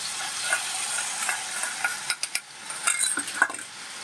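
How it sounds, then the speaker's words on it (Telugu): Onion paste hitting hot cold-pressed sesame oil in a pan, a steady close sizzle with a few sharp spoon stirs and clinks scraping the pan midway, no voices over it. "ఇదిగోండి ఉల్లిపాయ ముద్ద ఉంది కదా, ఇలా వేసుకోండి"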